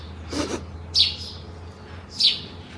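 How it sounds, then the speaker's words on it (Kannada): A bird perched up high outdoors on a sunny day gives two short, bright chirps about a second apart, fairly clear over a low steady background hum, with a soft rubbing sound just before. "ಪಕ್ಷಿ ಸೌಂಡ್ ಮಾಡ್ತಾಯಿದೆ ಅಲ್ಲಿ ಮೇಲೆ ಕೂತ್ಕೊಂಡ್ಬಿಟ್ಟೈತೆ"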